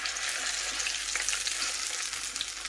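Hilsa fish frying in smoking-hot mustard oil on a stovetop, a steady loud crackling sizzle that fills the whole clip without a break, with no one talking.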